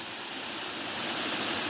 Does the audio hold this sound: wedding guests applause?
no